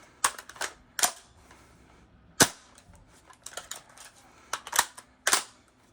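A rifle fitted with a B.A.D. lever cycles through a reload, giving a string of sharp metallic clacks and snaps in irregular bursts, close and fairly quiet, with no talking.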